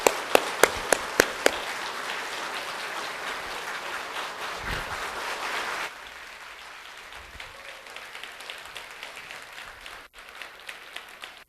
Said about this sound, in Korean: 우리 큰 박수로 환영하겠습니다